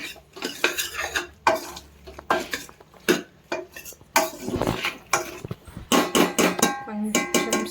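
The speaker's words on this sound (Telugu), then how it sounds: "ఒకసారి మళ్ళీ కలుపుకోవాలి" Veg pulao with meal maker stirred in a pot, with repeated scraping and clanking of a metal spoon against the pot in uneven strokes, close and fairly loud, and a faint sizzle between the strokes.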